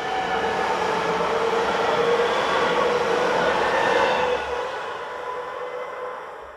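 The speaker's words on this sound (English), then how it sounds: "Heading a train for St.Valery is unit number 442326." Electric multiple unit 442326 passes at Lübben station, a broad, steady rushing roar of wheels and traction that holds loud and close, then eases off and fades slightly toward the end.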